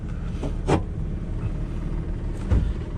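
An old 1966 Chevrolet C10 pickup engine turns over with a low, rough rumble, punctuated by a couple of brief mechanical knocks as it catches.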